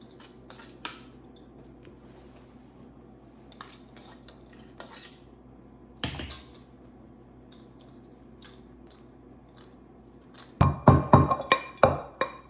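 Metal spoon scraping and clinking against a pan while crushed cardamom is stirred into a sweet filling, soft sporadic taps giving way to a denser burst of clatter near the end.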